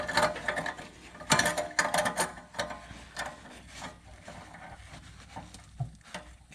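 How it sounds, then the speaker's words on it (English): A metal clamp is worked onto the two joined halves of an International diesel particulate filter, giving a run of close, uneven clicks, scrapes and clanks that come in bursts and then taper to sparser knocks. "You just gotta wiggle it around and kind of keep adjusting it to get it to sit right."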